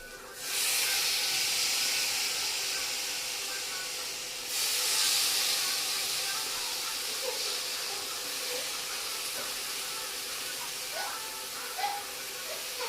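Washed hyacinth beans drop into hot masala, setting off a loud burst of sizzling steam that surges again, then settles into a quieter hiss with a few faint clinks.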